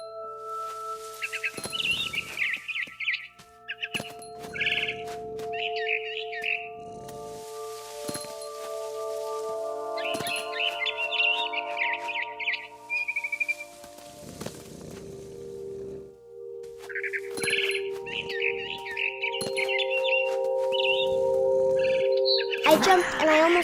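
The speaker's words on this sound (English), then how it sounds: "Then I heard chirping outside my window. It was a barn swallow going back to her nest." Chirpy barn swallow calls come in repeated short bursts over a sustained musical drone and rustling in the video game What Remains of Edith Finch, growing louder toward the end.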